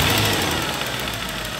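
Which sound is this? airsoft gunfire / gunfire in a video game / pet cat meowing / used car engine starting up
used car engine starting up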